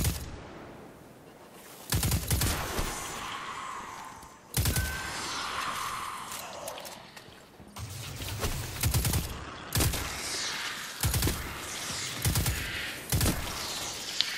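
Rapid, repeated bursts of energy weapon fire from Fallen enemies' charge-up guns in Destiny 2, loud and close, with sharp volleys recurring every second or two over a busy combat background.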